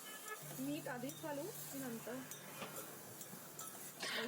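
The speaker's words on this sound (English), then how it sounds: "So mix everything well so that the vegetable nicely get coated with the fodni or the bagar." Flat beans (val papdi) are stirred in a pan to coat them with a hot tempering of spices, producing soft scraping and a light sizzle while a voice talks briefly near the start.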